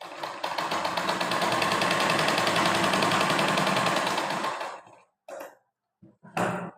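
A sewing machine stitches blouse fabric in one steady, fast, loud run lasting about four seconds, then stops, followed by a few short bursts of rustling or handling.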